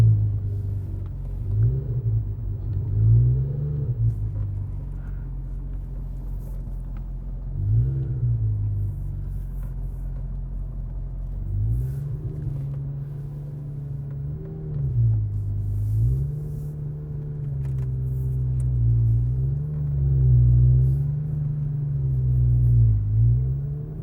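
A Porsche 991 GT3 with a Dundon Motorsport exhaust drives along, its deep engine rumble rising and falling with throttle changes, steady and prominent from inside the car with no talking.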